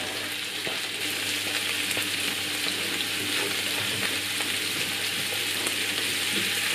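Peppers and mushrooms frying gently in melted fat in a pan, a steady continuous sizzle with faint crackles running throughout, close and unbroken.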